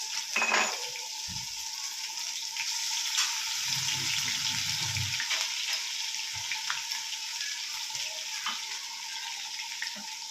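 Ginger and garlic hit hot cumin in a pan, setting off a steady close sizzle with a brief louder bubbling burst and scattered clinks of a utensil against the pan.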